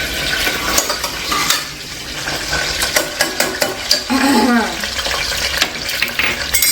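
Mustard seeds, cumin, chana dal, onion and chilies sauté in hot oil with loud crackling and a run of sharp spatula taps against the pan. A voice is heard briefly in the middle.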